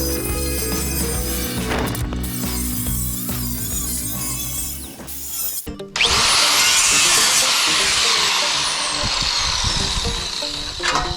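A power cutter grinds steadily through a Ford Mustang rocker panel outdoors in falling snow, a loud continuous whine that shifts abruptly halfway into a harsher, brighter cutting roar.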